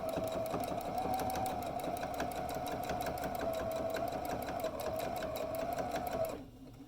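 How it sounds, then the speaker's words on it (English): A sewing machine runs steadily while backstitching the seam of a drawstring bag, its fast, even needle chatter close and loud for about six seconds before it stops abruptly. "It's super important at this point that we backstitch at the beginning and the end"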